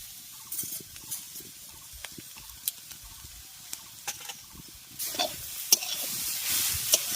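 Grated carrots frying in ghee for carrot halwa, with a soft steady sizzle and irregular scraping stir strokes that grow louder and denser toward the end.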